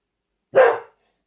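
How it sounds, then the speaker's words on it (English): A dog lets out one sharp, loud bark close by, reacting to noises outside, with silence before and after it. "That was our dog"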